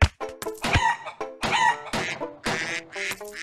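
A game bird's call in the Duck Hunter Extreme video game, a series of loud, close, rooster-like crowing and clucking bursts repeating every half second or so over about three and a half seconds, with no talk.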